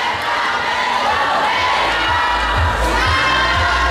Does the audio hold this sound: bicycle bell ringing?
no